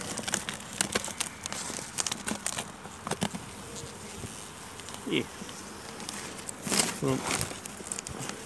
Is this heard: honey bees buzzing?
yes